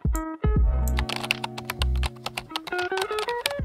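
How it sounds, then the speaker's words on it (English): Keys clatter on a computer keyboard as a search query is typed, with quick irregular clicks, some in bursts, heard over sustained tonal music. "If I type one more complex query into the search bar"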